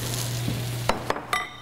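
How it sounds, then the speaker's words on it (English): Onions frying in a pan with steady sizzling and a low hum, broken by a few sharp clinks and scrapes of a utensil as they are stirred, close and alone. "Let's give our onions another stir."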